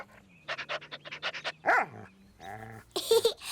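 A dog barks in a quick run of about a dozen short yaps, then gives a couple of louder whining or panting sounds in a cartoon scene, all close and clear with no talk over it.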